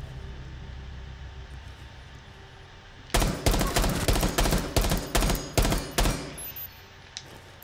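In-game gunfire from Rainbow Six Siege: after a few seconds of low background hum, a rapid burst of about ten loud shots rings out in a quick, slightly uneven rhythm, then stops, with one faint shot near the end.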